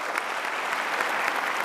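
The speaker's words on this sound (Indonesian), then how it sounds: "Kasih tepuk tangan untuk Mas Ade." Studio audience applause on an Indonesian television talk show, a steady, even wash of many hands clapping at moderate level for a short stretch, with no voices.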